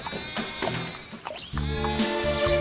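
A goat bleats in a series of loud, wavering cries, with music and a short rising tone partway through, all in a night-time scene of a goat that seems to be stuck.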